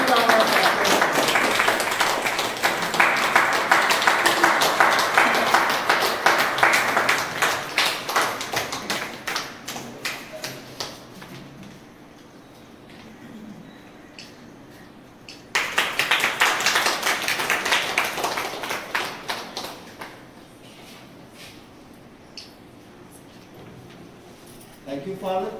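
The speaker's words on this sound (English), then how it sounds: "massive round of applause" An audience at a school Children's Day celebration applauds in two long waves, loud and sustained, with the clapping thinning between them and scattered claps trailing off at the end.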